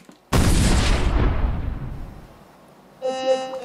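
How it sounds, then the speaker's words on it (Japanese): Exploding slime experiment: one sudden loud blast that decays over about two seconds, followed by a short bright tone. "このスライムを入れると爆発するよ。"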